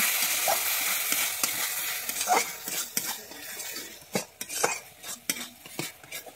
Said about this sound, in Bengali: আমি দইটাকে দিয়ে আমি এখানে আর 1 মিনিট কষিয়ে নিচ্ছি।